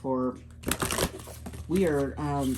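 Tarot cards being shuffled in a quick burst of dense riffling clicks mid-clip, with a person talking before and after.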